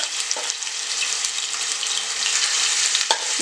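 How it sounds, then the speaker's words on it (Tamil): Small marinated chicken cubes frying in hot oil give a loud, continuous, close sizzle that builds slightly, broken by a couple of sharp knocks from a stirring utensil, with no voices. "இப்போ இதே எண்ணெயில் வந்து நம்ம சிக்கன் நம்ம மேரினேட் பண்ணி வச்சுருக்கோம் இல்லையா, அதை வந்து ஆட் பண்ணிக்கலாம்."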